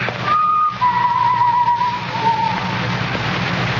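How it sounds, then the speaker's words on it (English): Someone whistles a short wavering tune, a few sustained notes over a steady low hum, moderately close. "The whistling was somewhere in the building."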